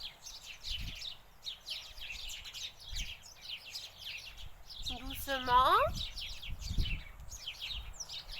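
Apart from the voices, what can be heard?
small birds singing outdoors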